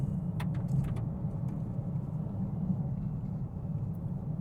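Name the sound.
Vauxhall Mokka GSE car driving on loose gravel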